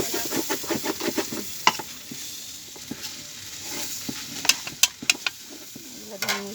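Dal and potatoes with spices and bay leaf sauté in oil, a steady soft sizzle under repeated scraping and clinking of a spoon against the pan, close by.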